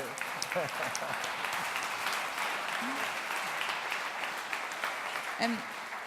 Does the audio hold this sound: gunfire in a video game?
no